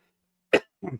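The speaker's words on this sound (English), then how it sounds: "Why am I coughing so much?" A person coughs twice at close range, a sharp single burst followed by a shorter, rougher throat-clearing cough, in an otherwise quiet room.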